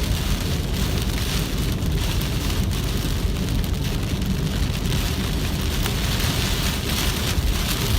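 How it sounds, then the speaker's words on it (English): Heavy rain pounds a car windshield with the wipers running at full speed, a dense continuous roar of drumming water filling the cabin, loud and steady throughout. "The windshield wipers are on as fast as they can go."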